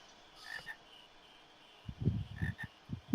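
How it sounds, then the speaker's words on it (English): Frog croaking in the video game Final Fantasy IX: a short run of low, throaty croaks in uneven bursts late in the clip, following faint higher chirping tones, with no talk. "Frog! Frog's that way?"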